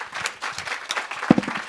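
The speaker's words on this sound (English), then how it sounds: "Colleagues, can we give a round of applause?" An audience at a national planning conference and young planners awards session gives a short burst of dense applause, mixed with a few louder nearby claps.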